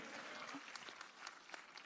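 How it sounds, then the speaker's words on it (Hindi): Applause from an audience at a poets' conference during the Mahadev Bhojpur Festival: a dense, steady patter of clapping, fairly loud and continuous for a couple of seconds. "एक बार जोरदार तालियां हो"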